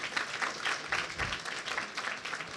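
Audience applause at a live show, a fairly soft, continuous wash of many hands clapping, slightly distant and steady throughout.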